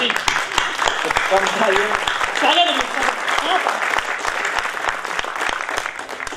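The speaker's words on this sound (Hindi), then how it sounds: "आप तालियां बजा के मुझे बता दें।" A crowd applauding at a Hindi comedy poetry gathering, sharp claps rattling steadily throughout while voices murmur and call out beneath.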